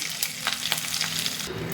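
Mustard seeds, cumin, urad dal, dried red chillies and curry leaves sizzle in hot oil as tempering for a garlic and telagapindi curry. It is a close, steady fry dotted with sharp crackles and pops, with no one talking.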